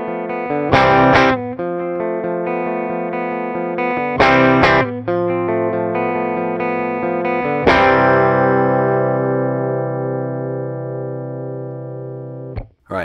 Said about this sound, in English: I'm going to start without the compressor on and pay attention to the light parts of what I'm playing